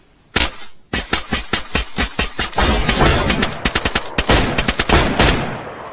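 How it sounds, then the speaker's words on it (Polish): Loud, close gunfire trades back and forth in the survival game DayZ, with rapid bursts and single sharp shots cracking in quick irregular succession for several seconds. "Strzela się z nim."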